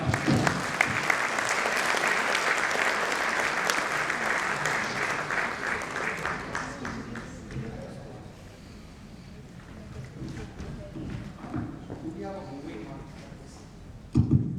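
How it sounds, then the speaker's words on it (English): An audience at a project management leadership talk gives a speaker a big round of applause, loud and dense for about seven seconds before thinning out, with scattered voices and rustling afterward. "Please help me with a big round of applause, Mr. Rishabh Lalwani."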